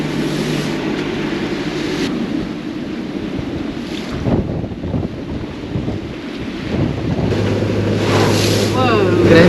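Strong headwind buffets the microphone on a moving sailboat near Queensway Quay Marina, Gibraltar, a steady roaring gust over engine rumble and water, with voices talking now and then.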